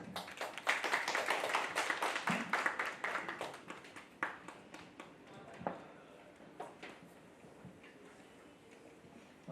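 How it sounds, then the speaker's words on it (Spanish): An audience at a Hispanist lecture gives the speaker a burst of loud clapping that thins out into scattered, fading claps, with a little speech underneath. "os pediría un fuerte aplauso para nuestro conferenciante"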